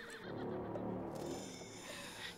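An angry horse neighs and whinnies loudly in a Resident Evil Village opening cutscene, the shrill call layered over a dense, full background of dramatic sound with faint hoof clip-clops.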